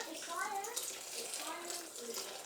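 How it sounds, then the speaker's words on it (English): Hot water pours into oatmeal in a pot, giving a steady gushing splash that runs through the whole short clip, fairly close, with a voice faintly underneath. "I'm going to add water"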